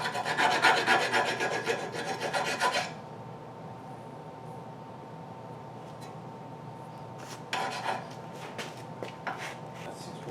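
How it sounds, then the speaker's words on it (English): A metal file rasps against a ball joint in rapid close strokes for about three seconds, then the work goes quiet apart from a few brief scraping bursts later on. "I'm just going to come in here and file this down a little bit."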